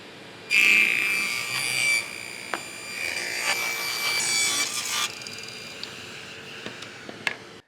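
A glorified contractor table saw from Lowe's cuts through wood with a decent blade, a loud, bright whining rip that starts abruptly, runs about four seconds and fades out, followed by a few faint clicks and knocks.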